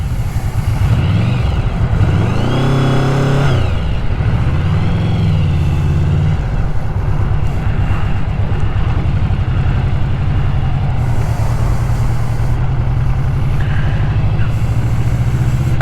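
A 2020 second-generation Yamaha VMAX 1700cc motorcycle rides slowly in first gear through traffic near an I-10 junction in San Antonio, Texas. Its engine rumbles and briefly revs up and down under constant wind buffeting.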